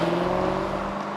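Lamborghini Urus SUV engine droning steadily while driving, a close, loud, even hum with no talk.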